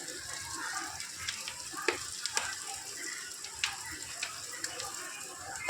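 Chow mein frying in a pan as sauce is added, with a busy, continuous sizzle broken by sharp clicks and scrapes of stirring against the pan.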